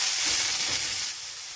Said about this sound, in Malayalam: ഇതിനകത്തോട്ട് നമുക്ക് സോയാബീൻ ചേർത്ത് കൊടുക്കാം. നല്ലതുപോലെ ഒന്ന് മിക്സ് ചെയ്ത്